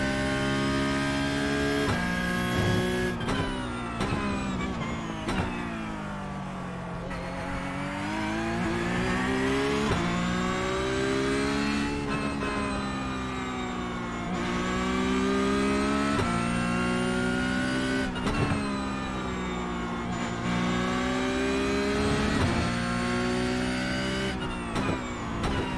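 Race car engine in the iRacing sim revving loud and continuous, pitch climbing and dropping through repeated gear shifts and corners, with no speech over it.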